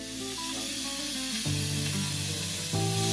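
A loud, continuous hiss of steam venting under pressure from an Instant Pot pressure cooker cooking rabbit, steady throughout with a faint tonal whistle beneath it.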